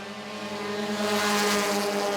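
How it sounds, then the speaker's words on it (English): Race cars accelerate onto a restart at Baer Field Motorsports Park during the 2019 Summit City 100, a loud, steady multi-engine roar building in pitch and volume with no pauses. "Cars accelerate, green flag drops, and we're back underway."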